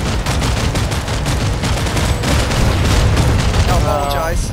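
Gunfire in a video game, dense rapid shots rattling loudly and continuously from start to finish, with a brief electronic tone near the end.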